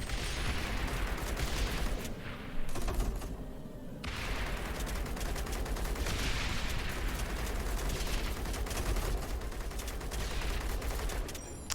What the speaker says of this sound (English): so everything will be firing at him now.